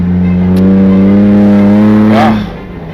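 A four-wheel-drive vehicle on rough, tough terrain in north-eastern Kenya gives a loud, close, steady engine drone that holds and then fades after a brief rise near the end.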